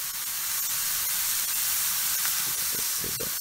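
Meat steaks from Trader Joe's sizzle in a hot pan, a steady, bright hiss that runs throughout at close range with faint crackles and pops, no voices.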